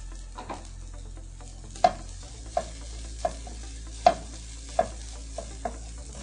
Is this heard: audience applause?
no